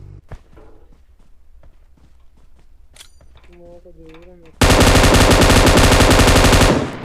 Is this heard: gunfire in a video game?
yes